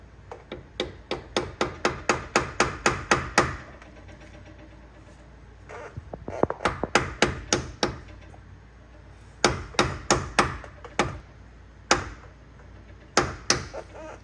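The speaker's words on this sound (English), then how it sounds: "I'm gonna take my socket, start tapping away" A socket used as a driver hammers a pilot bushing into place. The sharp metallic taps come in close, loud bursts of rapid strikes separated by short pauses.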